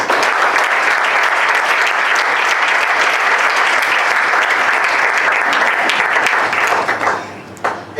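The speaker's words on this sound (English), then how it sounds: "So can we please applaud them?" Sustained applause from an audience at the final of a national debate championship in Togo, loud and dense clapping that continues steadily before tapering off near the end.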